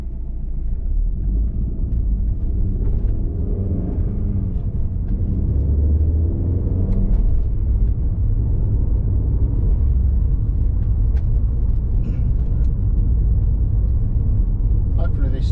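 A 2004 Alfa Romeo GTV 2.0 JTS Phase 3 Lusso coupe drives along, its engine a steady low rumble with road noise that stays constant throughout.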